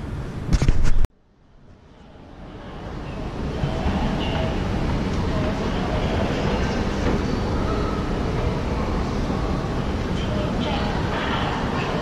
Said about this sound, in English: This is Kaifeng high-speed train station.